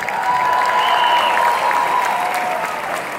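Concert crowd at a live show in Houston applauds steadily, a broad wash of clapping with a held tone ringing above it.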